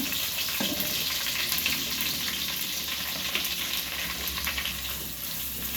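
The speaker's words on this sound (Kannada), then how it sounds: "ಈಗ ಈರುಳ್ಳಿ ಚೆನ್ನಾಗಿ ಕಾಯ್ತಾ ಉಂಟು" Onions and chili frying in a pan give off a steady, dense sizzle that runs unbroken throughout, fairly close and with no talking over it.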